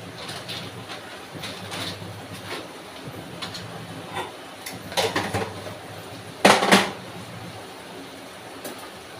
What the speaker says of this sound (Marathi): आता आपण याच्यावरती ढाकण ठेवू.